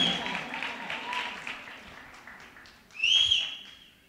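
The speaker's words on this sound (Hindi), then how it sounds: "जोरदार तालियां" Audience applause follows a song performance at a singing contest, a broad steady clatter of clapping with a sharp whistle cutting in near the end before it fades.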